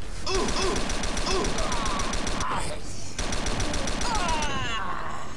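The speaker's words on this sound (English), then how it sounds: "Waste ammo like no man's business, but it's a good gun." Rapid automatic gunfire from a weapon in the Star Trek Elite Force 2 video game: loud, dense, continuous bursts that pause briefly midway, then resume with mechanical clatter.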